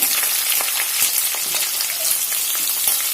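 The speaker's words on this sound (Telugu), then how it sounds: "ఒక పెద్ద ఉల్లిపాయ తీసుకొని కట్ చేశాను, సన్నగా తరిగాను అన్నమాట, పొడుగు. ఇది బాగా వేగాలి." Long thin-sliced onion frying in a pan for vangi bath, a steady close crackling sizzle with dense spitting pops throughout and no voices.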